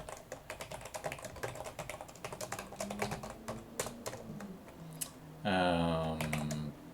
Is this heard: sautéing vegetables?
no